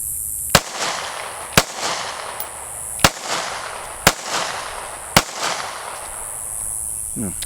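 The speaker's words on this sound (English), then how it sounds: "the gun that I'm shooting is going to be my Taurus G3C" Five sharp gunshots from a Taurus G3C concealed-carry pistol, fired at spaced, slightly uneven intervals of about a second, each a loud crack with a short tail over faint outdoor background noise, with no one talking.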